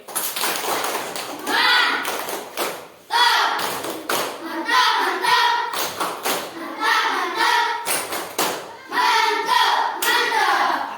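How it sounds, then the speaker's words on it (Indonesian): A group claps together in a quick rhythmic pattern, in several bursts with short pauses, mixed with chanting voices. "Tepuk mantap dulu untuk ketua."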